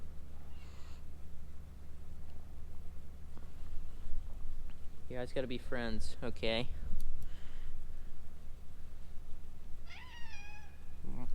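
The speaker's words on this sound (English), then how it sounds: "You're meowing at him?" A grouchy old cat meows at a little cat, with a short meow near the start and a rising, wavering meow near the end. A person talks in between over a low steady hum.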